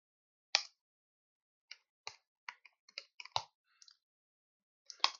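Slow, hesitant typing on an unfamiliar computer keyboard set to a German layout: about a dozen sharp, close key clicks come singly and in short clusters, separated by pauses, in an otherwise quiet room.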